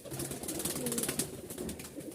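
Domestic pigeons of a white full-tailed breed coo softly and repeatedly at close range, low murmuring calls layered over a steady hiss of background noise, with no one speaking.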